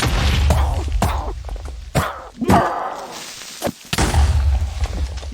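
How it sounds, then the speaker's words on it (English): Explosions in the video game Minecraft: several heavy, booming blasts land in quick succession, deep and loud, with rumbling noise filling the gaps between them. "Keep hearing explosions."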